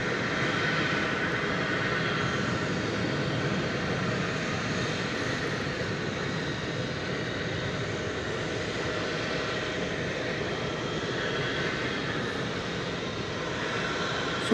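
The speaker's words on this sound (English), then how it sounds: "So there goes Delta Flight 724 off to somewhere." Delta airliner taking off from Dallas/Fort Worth airport, its jet engines producing a continuous loud roar that holds fairly steady throughout, with no voices.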